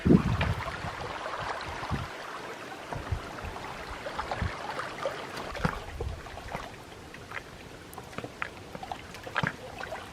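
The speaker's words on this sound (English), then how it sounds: "Just listening to those small waves lap up against the rocks." Gentle water from small lake waves laps and trickles against lakeside rocks in irregular small splashes, with a soft, steady outdoor background and light wind.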